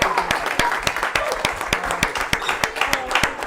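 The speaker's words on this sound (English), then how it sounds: "give him a round of applause" Scattered audience applause at a small gathering, a modest crowd clapping unevenly with distinct individual claps, fairly close, over a low murmur of room noise.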